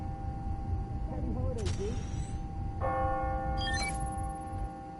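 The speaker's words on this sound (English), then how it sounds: "Oh, the church bells." Church bells ringing on the hour in Spider-Man Miles Morales chime out in a few bright struck tones over a murmuring city background, with a voice talking in between.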